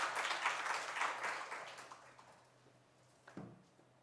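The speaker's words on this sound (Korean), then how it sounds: "우리 하나님께 영광의 박수 올려드리겠습니다" A church congregation gives a short round of applause during a Wednesday worship service. The clapping is moderate and fades out, followed by a single louder knock or clap near the end.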